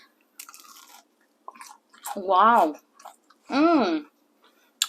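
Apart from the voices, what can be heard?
crunchy chewing of fried mango saheena with cumin seed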